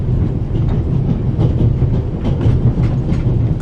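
A moving train in The Raven Remastered rumbles steadily, with a dense low roar and rhythmic clicking of wheels on track filling the whole stretch, loud and close without any voices.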